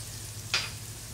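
Sliced garlic hits hot oil for an Indian tadka for masoor dal, giving one brief, soft sizzling hiss that flares up and quickly fades in a quiet kitchen.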